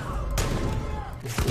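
Enemy gunfire in the video game Far Cry 5, sharp loud shots cracking in a quick burst, with a brief pause before another shot near the end, a player talking over the action.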